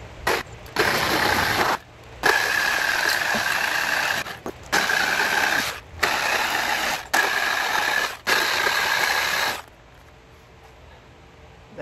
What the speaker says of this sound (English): And then we'll sawzall the other half.